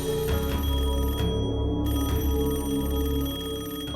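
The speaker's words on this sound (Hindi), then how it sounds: "जैसे ही अलार्म बजा, सरगम घर के बाहर।" A new mobile phone alarm rings on and on, a loud, steady electronic ringtone with a brief dropout near the middle, heard alone without speech.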